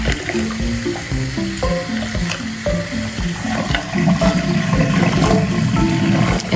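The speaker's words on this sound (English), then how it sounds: "I'm going to pull the drain out, and we're going to run her down through the clean water" Water runs steadily from a sink tap to rinse a vintage 1988 Garden Party Barbie doll while the drain is pulled. The rushing and gurgling is loud and continuous throughout, with no talking.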